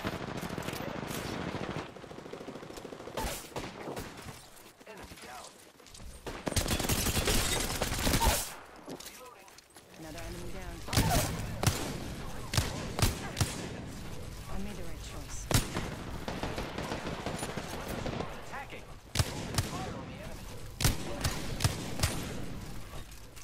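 Rapid bursts of automatic gunfire and single shots fill an Apex Legends battle. The fire comes in loud, dense volleys with short gaps and a voice talks underneath.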